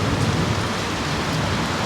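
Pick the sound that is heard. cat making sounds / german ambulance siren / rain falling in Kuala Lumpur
rain falling in Kuala Lumpur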